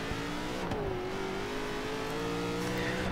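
A Ford Mustang V8 engine in the video game Forza Horizon 3 holds a steady, sustained drone with a slight pitch dip and rise, loud and continuous with no talking.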